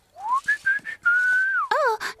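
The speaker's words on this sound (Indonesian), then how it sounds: "aku suka bersiul saat bekerja." Cartoon character whistling a cheerful melody while working, a bright, sliding tune of several sustained and rising notes, close and clear, ending in a short wavering flourish.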